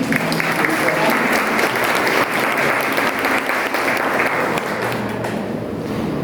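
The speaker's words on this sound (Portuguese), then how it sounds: "Palmas para a Patrícia." An audience applauds Patrícia after her talk at a consciousness-themed session, sustained full clapping from a crowd that holds steady and tapers only slightly near the end.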